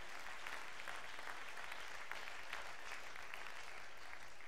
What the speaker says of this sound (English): someone clap your hands unto the Lord